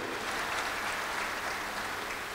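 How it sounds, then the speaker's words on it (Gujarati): An audience at a school lecture in Bhimpor village applauds its guest with a dense, continuous wash of clapping that stays even and full from start to finish, with no voices over it. "એકવાર જોરદાર તાળી થઈ જાય."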